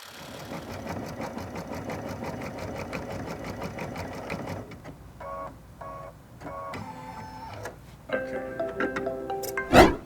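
Brother Stellaire Innov-is XJ2 sewing machine couching yarn, a steady rapid needle stitching rhythm for several seconds, then short mechanical whirring bursts and beeps as it stops and trims the thread.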